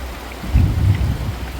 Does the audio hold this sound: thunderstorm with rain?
yes